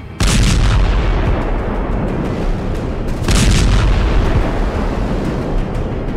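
Iskander missile strikes explode over Kharkiv, two heavy booming blasts with long rumbling roars that fill the scene, loud and sustained, with no voices.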